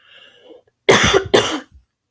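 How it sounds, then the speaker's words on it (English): Two sharp, loud coughs in quick succession, close to the listener, after a moment of faint background murmur. "Sorry, I'm gonna cough."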